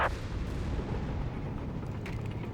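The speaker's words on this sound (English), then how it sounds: "We got a massive artillery strike called in here on the center point" Massive artillery strike exploding on a center point in Company of Heroes 3, a sustained rumbling barrage of booms with a sharp impact at the start and another burst near the end, loud and continuous without talk.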